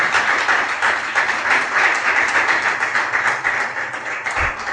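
A church congregation claps together in a continuous, fairly loud burst of applause filling the whole stretch, with no voices over it.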